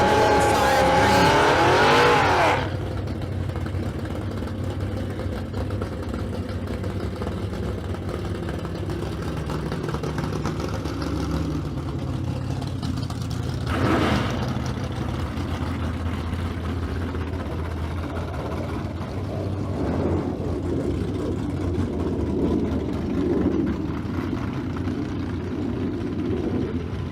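Drag race cars, including a 2016 Camaro, launch at the Street Car Super Nationals in Las Vegas with a loud engine burst at the start, then a fading roar as an announcer talks over the track noise.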